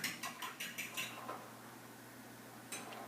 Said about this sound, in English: I'm going to stir this up quickly.